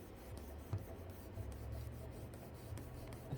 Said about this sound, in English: you can take a credit card, you can take anything, but just make sure you rub it really good and it'll stick to the tape